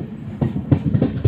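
The Hazrat Nizamuddin–Yeshwanthpur Sampark Kranti express rolling into Hubli railway station gives rhythmic, muffled clickety-clack thumps of wheels over rail joints, heard from inside a coach, brief and fairly loud.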